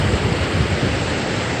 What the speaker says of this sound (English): It's a small waterfall, but it's a really awesome area.